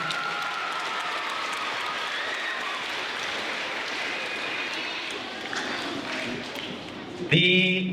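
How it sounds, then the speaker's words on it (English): Applause from a school awards audience cheering spelling bee winners, dense sustained clapping from a crowd filling the room, then ending abruptly into a brief louder burst of noise. "One more big round of applause for these incredible spellers"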